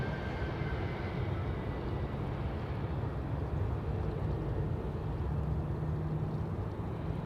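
Steady, dense roar of an airliner landing at Amsterdam Schiphol Airport with reverse thrust engaged, a broad rumbling wash that stays loud and even throughout, heard from a distance.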